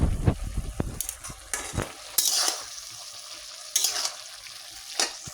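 Leafy greens cooking in a pan with a paste of mustard, poppy seed, coconut and green chilli, giving a low sizzle broken by close stirring scrapes and occasional louder bursts of frying, with no talking.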